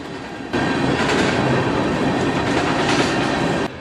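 A freight train of new 22,667-gallon Trinity Rail tank cars rolls past close by, a loud steady roar of wheels with rhythmic clacking that starts and stops abruptly.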